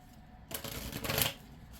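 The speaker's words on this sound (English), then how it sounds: "Let's give it one more shuffle." A deck of tarot cards shuffled once in a quick riffle, a close crisp flutter lasting about a second after brief quiet.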